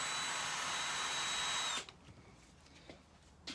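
A power buffing wheel polishing a Kawasaki KZ400 aluminium fork leg with compound, a steady high whine for nearly two seconds that stops abruptly, followed by quiet handling clicks.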